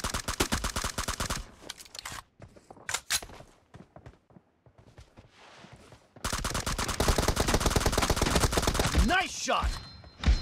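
Rapid bursts of automatic gunfire from a team deathmatch in PUBG Mobile, loud and close, with dense volleys at the start, a sparser lull in the middle, then sustained heavy firing through the final seconds.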